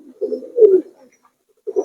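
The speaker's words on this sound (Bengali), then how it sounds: "এদিকে আরো কবুতর আছে" Pigeons of high-flyer stock coo close by in low, throaty bursts, two rolling calls followed by a pause and another starting.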